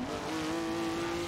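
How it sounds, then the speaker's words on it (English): A racing car in a sport touring series race on the Nürburgring GP circuit drifts with a steady high tire squeal over a loud engine drone, continuous and close. "We've got some spring car drifting."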